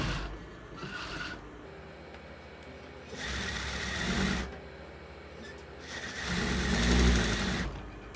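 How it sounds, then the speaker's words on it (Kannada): A sewing machine stitches a sleeve onto a blouse in three whirring runs of a second or two each, separated by quieter pauses as the fabric is handled. "ಇದಕ್ಕೆ ಇನ್ನೊಂದು ಸ್ಟಿಚ್ ಬಿಡ್ತಾ ಇದ್ದೀನಿ"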